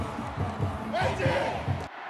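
A baseball crowd in the first-base stands at an LG game roars and cheers in a dense swell of many voices, which cuts off abruptly at the end.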